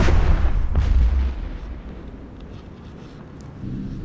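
A spaceship blows up in EVE Echoes, the space combat game: a loud, heavy boom bursts at the start and rolls into a fading low rumble over a few seconds, with no talk.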